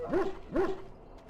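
A dog in the Dragon Age: Origins game gives two short, clear bark-like yips about half a second apart, close and fairly loud, followed by a quieter tail of ambient sound.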